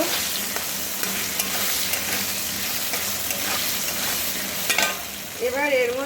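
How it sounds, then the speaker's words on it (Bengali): Potatoes with salt and turmeric fry in an oily pan while being stirred: a loud, continuous sizzle with repeated scraping strokes, and a short squeaky scrape near the end. "নাড়াচাড়া করে এটা একটু মিশিয়ে নেব"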